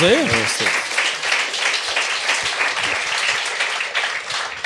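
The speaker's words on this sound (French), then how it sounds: "On va l'applaudir." Studio audience applauding at a French-language comedy podcast taping, a steady wash of clapping that runs throughout, with a brief voice at the start.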